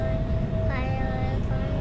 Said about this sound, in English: I'm in the train and we go.